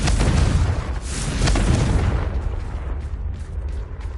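The Confringo fire spell from the Hogwarts Legacy video game goes off as a loud, heavy explosion with a deep rumbling boom that swells and then slowly fades into a hissing tail, with no talking.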